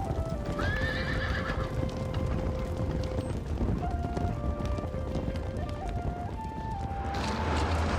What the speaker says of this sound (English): The horse is a mighty animal, a proud one, an intelligent one.